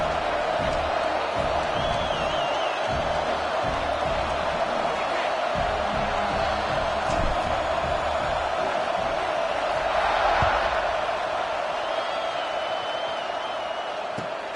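A stadium crowd roars and cheers steadily at a UCLA versus Colorado college football game, a broad, sustained wash of distant voices with occasional whoops and a commentator talking over it.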